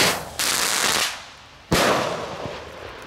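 A single-shot firework fires nearby: a sustained hissing rush, a pause, then a second loud whooshing burst that tails off, with no talking.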